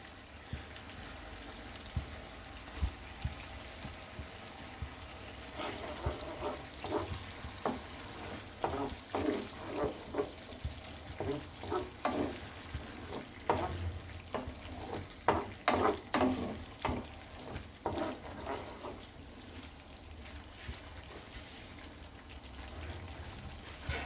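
Spices fry in oil with whisked sour yogurt for a Bengali vegetarian baby eggplant curry. A soft sizzle runs underneath while a spoon stirs and scrapes the pan in quick, irregular bursts, close by, with no voices.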